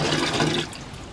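Tap water gushes while compost filters are rinsed, a loud close splashing rush that drops to a lighter trickle partway through.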